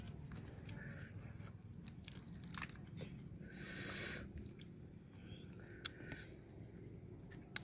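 Close, wet chewing and crunching of spicy papaya salad eaten outdoors, with bites and smacking mouth sounds at an uneven pace over a low background hum and a brief whoosh of wind.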